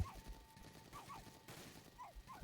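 Gunfire sounds in the Roblox Retro Tower Defense game: short, pitched electronic shots at irregular intervals over a faint, steady bed of game noise, quiet overall.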